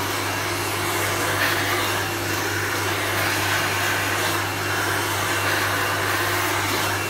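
A hair blower runs steadily and loudly close by while drying hair after a haircut, its constant whooshing airflow and motor hum unbroken throughout, with no talking.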